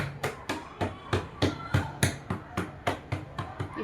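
Steady rhythmic tapping on cloth to transfer marked dots while preparing a blouse for stitching, about fifteen sharp close knocks at an even pace with no talk.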